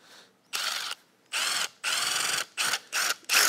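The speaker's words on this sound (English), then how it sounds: "So we're gonna use a drill." A power drill whirs in a series of short bursts, starting and stopping about five times in quick succession, loud and close with brief silences between runs.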